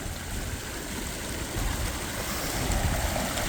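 A creek in flood with a strong current rushes past as a dense, steady broadband roar of churning water, close and continuous with no voices.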